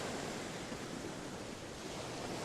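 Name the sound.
Atlantic ocean waves crashing against rugged cliffs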